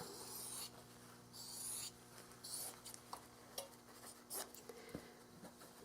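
Scissors make chunky cuts through fused appliqué fabric in a quiet room. The snips and rustles come in short, separate bursts, close to the listener and fairly soft.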